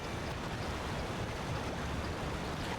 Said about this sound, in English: we're back to loud waterfall